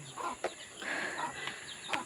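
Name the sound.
birds calling outdoors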